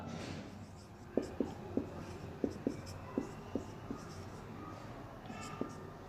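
Pen or chalk strokes writing maths terms by hand, a steady series of short, crisp taps and scratches close by, spaced roughly evenly with brief pauses, over a quiet room hum.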